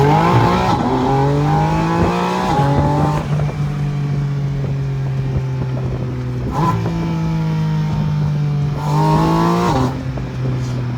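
A car engine drones loudly at steady revs, broken by three quick downshifts, each a sharp rev blip that jumps in pitch and settles back, heard close up with no talking.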